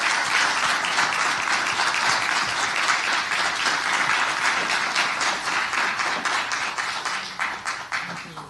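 A hall audience at a presentation on the Haitian Revolution breaks into strong, sustained applause, dense and loud, thinning into separate claps near the end.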